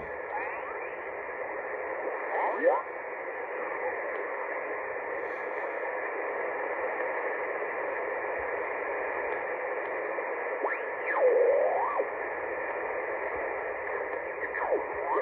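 Yaesu FT-7B amateur radio receiver output through an external speaker, hissing steadily with band-limited static, faint warbling tones and occasional whistling sweeps drifting through, no voices.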